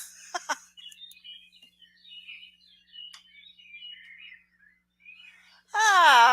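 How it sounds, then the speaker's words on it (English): A cuckoo calls in short tonal notes at a moderate distance, scattered across a quiet background, followed at the end by a loud, close wavering wail. "Do you hear that cuckoo bird?"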